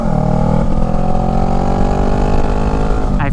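Steady, loud buzzing from a Honda Rebel motorcycle's GP shorty exhaust with the baffle removed, a raspy harmonic drone holding constant throughout before a brief rise at the very end.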